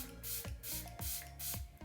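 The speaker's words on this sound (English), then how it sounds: "I'm just going to basically spray my beauty blender" Four quick, close hissing bursts of a face mist spray bottle onto a makeup sponge in a steady rhythm, each a short airy spritz.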